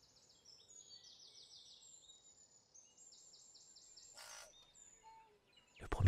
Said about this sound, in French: Le premier son qui attire votre attention est le chant mélodieux du tui